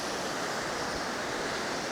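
Steady, broadband wind roaring across an open beach, a constant rushing hiss with low buffeting rumbles and no voices.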